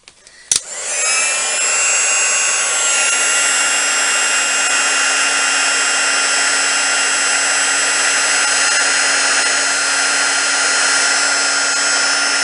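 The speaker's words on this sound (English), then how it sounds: "we will put the heat gun on again and see how this one turns out" A heat gun for craft embossing clicks on and then blows with a loud, steady whooshing whine that holds unchanged for over ten seconds, close up and with no voices.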